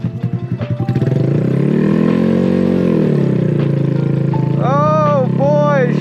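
A motorcycle engine runs steadily under a rider's loud, continuous talking, with a few pulsing throttle blips at the start and a hum that stays level throughout.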